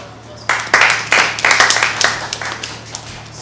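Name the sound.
round of applause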